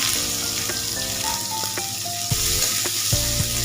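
Chopped onion dropped into hot oil with whole spices, bay leaf and dried chilli, a loud steady sizzle broken by a few sharp clanks of a spoon against the pan.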